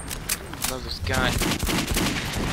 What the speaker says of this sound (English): It's a pistol, like, but an auto shot pistol.